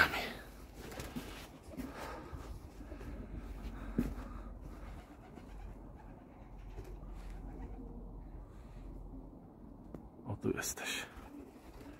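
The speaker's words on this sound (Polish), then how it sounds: "Po takim czasie, o, widać gołęb." Homing pigeons in a loft coo softly and repeatedly at close range, with low throaty rolls and some wing rustling, under quiet Polish speech.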